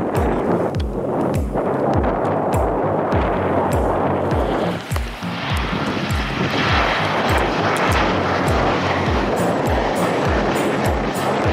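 Airliner touching down at Schiphol Airport with a smooth landing, its loud broadband jet roar steady and close throughout, with repeated low pulsing thumps underneath and no talk.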